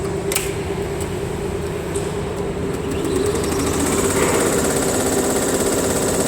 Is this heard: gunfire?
no